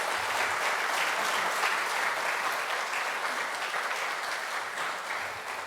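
A church congregation at a Sunday service claps to welcome the pastor to the pulpit: steady, dense applause that holds at an even level for several seconds with no one talking over it.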